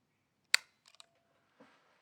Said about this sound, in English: but here's the shutter sound.